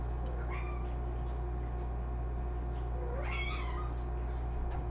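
A cat whines for a toy that landed up on a counter, giving two drawn-out, rising meows about three seconds apart against a quiet room with a steady low hum.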